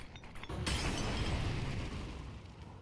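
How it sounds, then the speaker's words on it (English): A grenade goes off in a Counter-Strike match: after a quiet moment, a sudden loud blast erupts, followed by a long, rumbling decay and debris-like crackle, with no speech. "Oh, a nade coming in."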